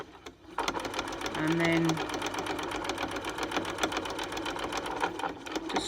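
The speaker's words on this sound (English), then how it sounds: "just sew all the way round through all the layers of fabric." A sewing machine stitches around a corner through several layers of fabric, its needle running in a fast, steady mechanical rattle up close. A person speaks briefly over it near the start.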